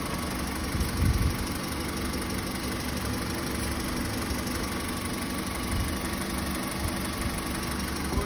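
A 2001 Honda Civic project car idles steadily, its engine giving a continuous low, droning rumble with slight vibration throughout, no voices.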